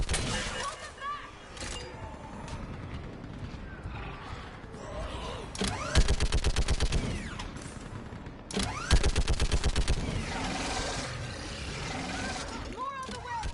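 Rapid bursts of automatic weapon fire in a Mass Effect 3 battle, two long rattling volleys mid-clip with other combat noise around them, while voices shout over the fighting.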